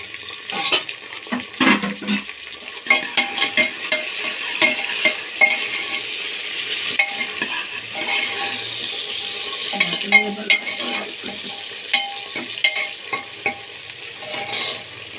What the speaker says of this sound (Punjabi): ਟਮਾਟਰ ਨੂੰ ਵੀ ਆਪਾਂ ਨਾਲ ਹੀ ਭੁੰਨ ਲੈਣਾ ਹੈ